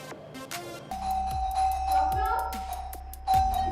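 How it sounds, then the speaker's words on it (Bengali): A household calling bell rings loudly again and again, its sustained electronic tone recurring in quick bursts, with voices audible around the rings. "এভাবে এত জোরে জোরে কলিং বেল কে বাজাচ্ছে রে ভাই?"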